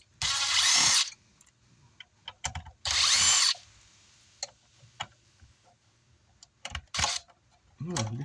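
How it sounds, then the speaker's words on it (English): Power drill backing screws out of a Concrete Audio CA800.4 car amplifier during repair, with two loud whirring bursts about a second long, followed by clicks, handling noises and brief further spins. "Let's use a drill for this one here really quick"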